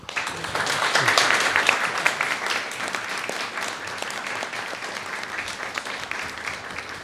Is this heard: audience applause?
yes